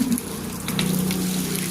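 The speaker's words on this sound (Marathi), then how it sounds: "कसं मस्त एकदम कडकमध्ये बघा पाणी मारल्यावर कसं होतंय" Tap water from a hose sprays across the floor of a goat shed, making a steady close gushing hiss with a faint low hum underneath.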